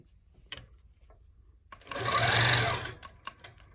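A longarm quilting sewing machine stitches around a ruler with a sure-foot, a short burst of rapid mechanical chattering that swells and stops, framed by quiet clicks and handling noises.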